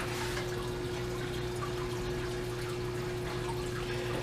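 Water trickles steadily through an aquarium biofilter in a tank holding a red-tailed catfish and a pacu, a constant close splashing wash with a low steady hum beneath it.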